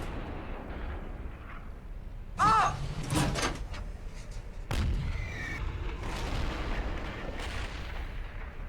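An M44 self-propelled artillery gun fires in a tank video game: two heavy, booming shots a couple of seconds apart, each with a sharp crack and rolling low rumble over continuous engine drone.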